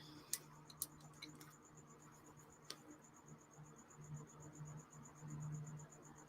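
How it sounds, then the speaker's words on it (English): A cricket chirps faintly inside an art studio, its thin high trill repeating in short bursts over quiet room tone, with a few sharp ticks and taps early on. "And my cricket is back. I don't know if you guys can hear that."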